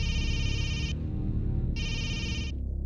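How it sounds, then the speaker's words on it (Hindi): A telephone rings in two loud electronic bursts separated by a short pause, with a low background hum underneath and no speech. "It's ringing."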